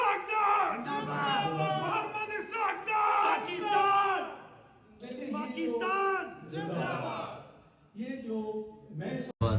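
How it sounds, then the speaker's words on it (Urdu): A crowd of overseas supporters chants political slogans for Ishaq Dar in loud, rhythmic call-and-response bursts, voices rising together in repeated yells separated by brief pauses, close and energetic. "اور ادھر جو نعرے لگ رہے ہیں محمد اسحاق ڈار"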